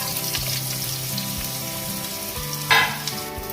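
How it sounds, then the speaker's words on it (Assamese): Pieces of pointed gourd fry in oil in a frying pan, a constant close sizzle with a brief louder splash-like crackle partway through, no speech. "এতিয়া ফ্ৰাই পেনত থকা তেলখিনিতে মই পটল কেইটুকামান ভাজি ল'ম।"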